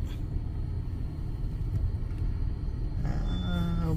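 A pickup truck towing a small loaded scrap-metal trailer rolls onto a weigh scale, a steady low engine rumble close by, with a brief rising whine near the end.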